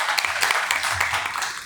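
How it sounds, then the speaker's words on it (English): A crowd claps and cheers in a steady, dense burst of applause that fills the whole moment, loud and close. "give yourself a round of applause"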